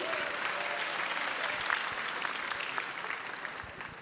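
Audience applause at a livestreamed forum event, a steady wash of many hands clapping at moderate distance that holds evenly for the whole stretch.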